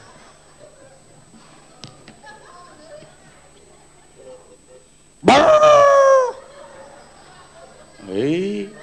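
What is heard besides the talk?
dog barking and whimpering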